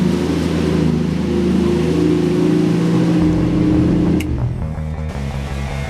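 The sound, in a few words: 1965 Ford Mustang engine running on cold choke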